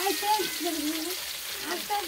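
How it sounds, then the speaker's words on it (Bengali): Fish fries in a pan at home, a soft continuous sizzle heard under wavering tonal sounds like music or singing in the background. "মাছ ভাজা চলছে"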